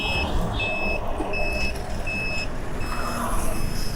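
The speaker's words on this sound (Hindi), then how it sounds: "मैंने लेफ़्ट इंडिकेटर दिया है इस वक्त और ये बाइक इस तरह का बीप साउंड देती है" A Pure EV Etryst electric motorbike's left turn indicator beeps steadily at an even pace, roughly once every three-quarters of a second, over a constant low motor and road rumble.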